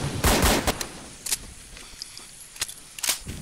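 Gunfire in Garry's Mod comes as several sharp bursts, with a loud volley near the start and scattered single shots and short bursts after it, close and punchy over a quiet background.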